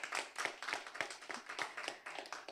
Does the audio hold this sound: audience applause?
yes